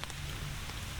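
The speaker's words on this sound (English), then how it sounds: "you could hear the rain, like off in the distance in the trees, you could hear the rain just coming." Rain falling through trees along the Appalachian Trail in Pennsylvania, a brief, steady, dense patter and hiss that sounds somewhat distant, with no voices.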